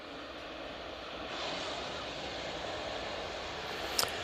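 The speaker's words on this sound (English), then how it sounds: "Next in, we got this Ryanair 737 MAX 8 coming in from Rome. Not bad landing there for the Ryanair" A Ryanair Boeing 737 MAX 8 lands at Manchester Airport, its engines a faint, steady distant roar with a slight swell midway and a brief click near the end.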